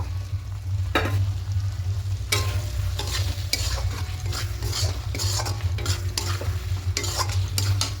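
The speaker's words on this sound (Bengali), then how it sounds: "এবার এখানে ভেজে রাখা আলুগুলো দিয়ে দেব।" Fried potatoes tipped into a pan of chicken masala and stirred over high heat, a steady sizzle of frying under repeated scraping and clinking strokes of a spoon against the pan.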